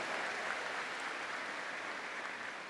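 An audience at a rice distribution event applauds, a dense, even wash of clapping that sounds fairly distant and stays at a steady level throughout.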